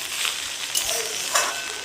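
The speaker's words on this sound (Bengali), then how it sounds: "এর মধ্যে ভাতটা দেবো, দিয়ে ভাজা করে নেবো" Rice frying in a kadai at home, a steady close crackling sizzle with a couple of brief stirring scrapes, no voices.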